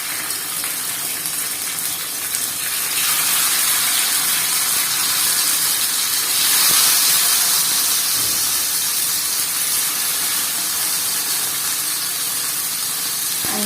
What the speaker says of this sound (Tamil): இப்போ நம்ம மீன் இதில் ஒன்றா வச்சிடலாம்